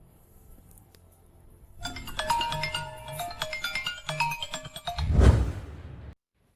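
A phone melody rings out in a series of bright chiming tones for a few seconds, then ends with a brief rustling bump.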